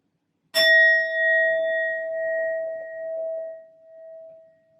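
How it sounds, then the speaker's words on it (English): A metal singing bowl is struck once, giving a bright clang that settles into a pure, steady ring and fades slowly over several seconds, heard alone in a quiet room. "I will be using my sound bowl to clear and set the energy as always"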